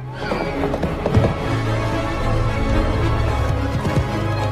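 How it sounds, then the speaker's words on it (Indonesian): Several horses neigh and whinny loudly over a rush of clattering, galloping hooves, a frantic stampede of animals bolting wild from their stables, dense and continuous with no talk. "semua kuda di kandang tiba-tiba menjadi liar dan tak terkendali"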